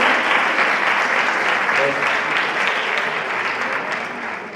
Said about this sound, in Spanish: Un aplauso, bienvenida.